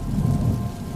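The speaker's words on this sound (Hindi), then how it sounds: "बाहर तेज बारिश की आवाज गूंज रही है।" Heavy rain pours steadily outside with a low rumble of thunder rolling underneath, a dense, continuous roar that stays loud throughout with no voices.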